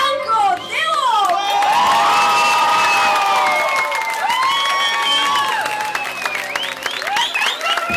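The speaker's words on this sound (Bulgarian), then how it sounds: "Моля, вашите аплодисменти за Банко Делов!" Audience applause and cheering for a jury chairman at a talent show in a Varna disco, loud sustained clapping with whoops and high shouted cheers from a lively crowd, filling the whole stretch.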